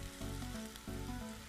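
Gram flour is sautéed in oil in a pan, giving a steady close sizzle over a low, faintly tonal hum, with soft pulses of stirring and no voices.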